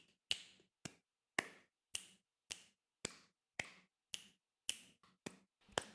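Sharp finger snaps and claps land in a steady, even beat, about a dozen crisp hits close by with quiet gaps between them and no talking.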